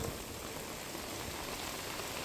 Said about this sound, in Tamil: மழை ஒன்று கொட்டி தள்ளுது